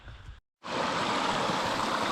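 Glen Esk burn rushing steadily over stones, a broad continuous wash of flowing water close by after a brief silent gap.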